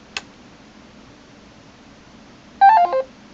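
A classroom lab robot powering on gives a brief click, then a quick run of short electronic beeps a couple of seconds later, clear and close in a quiet room.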